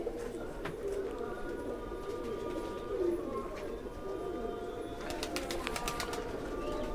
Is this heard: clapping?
no